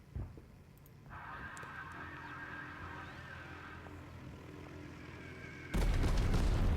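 Air strike bombing in the tank strategy game Total Tank Generals: a sharp blast opens, then a long steady droning rumble, then a loud, sustained wall of explosion noise near the end.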